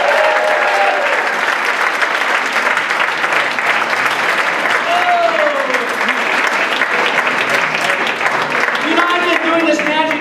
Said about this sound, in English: Let's give Gavin another round of applause.